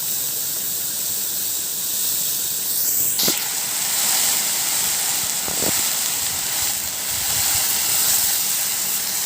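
Dhekia fern greens go into a hot pan for an Assamese dal dish and steam with a steady, loud hiss, broken by a couple of brief metallic scrapes.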